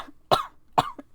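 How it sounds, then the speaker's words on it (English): Vanessa, a character in FNAF Daybreak, coughs into her arm: two distinct, close coughs with a small throat sound after, otherwise quiet. "she coughs into her arm"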